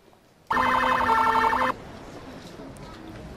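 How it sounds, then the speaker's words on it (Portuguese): A Military Police (PM) car in Emergency 4 sounds its two-tone police siren in a loud, steady burst that stops abruptly, leaving quiet background noise. "A viatura da PM com bitonal."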